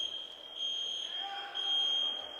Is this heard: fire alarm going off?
yes